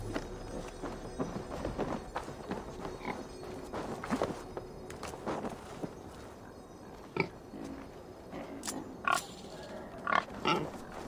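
Pigs grunting and oinking in Assassin's Creed Valhalla, loose around a house, with scattered trotting footsteps and clattering, moderately quiet.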